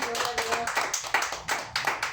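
Church congregation clapping during a Spanish-language worship service, a dense burst of hand claps with a rhythmic pulse, loud and close, with a faint voice in the background.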